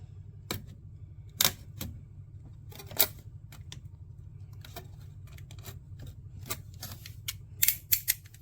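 Scissors cut a corrugated roof sheet in sharp snipping and cutting clicks at irregular intervals over a low steady hum, close by, with no talking.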